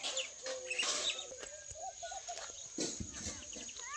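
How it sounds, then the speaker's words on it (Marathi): A flock of birds perched on wires near a house and road chirps and twitters in short scattered calls outdoors, fairly faint, with occasional background noises. "मस्तपैकी तारांवर पाखरांची शाळा भरलेली आहे"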